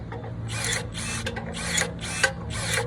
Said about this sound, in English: Then let's see how the pruning shears do.